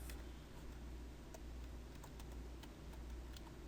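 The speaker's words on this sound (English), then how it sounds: "I'm typing with one hand," Slow, sparse one-handed typing on a computer keyboard while building a Geneva drive part in Creo Parametric, with soft scattered key clicks over a steady low background hum.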